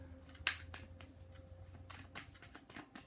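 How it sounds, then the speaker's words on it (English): Tarot cards being shuffled at close range, a few quiet riffling bursts and soft slaps spread over a few seconds in an otherwise quiet room. "3 more shuffles."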